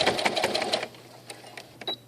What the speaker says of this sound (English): Back stitch when you get to the edge of that fabric and sew all the way off.